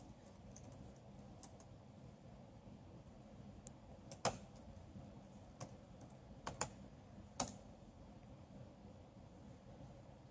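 A few scattered computer keyboard keystrokes, soft taps and several sharper clicks at irregular intervals over a low steady hum, faint and close, with no talking.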